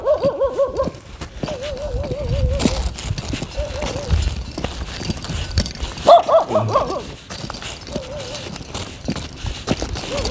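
Several dogs bark and yelp intermittently over about ten seconds, some close and some farther off, mixed with outdoor noise and occasional voices.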